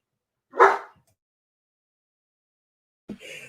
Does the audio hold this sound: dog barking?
yes